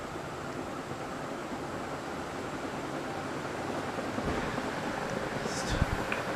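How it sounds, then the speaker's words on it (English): Broad rushing wind noise from a Canarm CP56 industrial ceiling fan running on a test rig, a steady whooshing roar with a few faint clicks near the end. "you're really starting to hear the wind noise now"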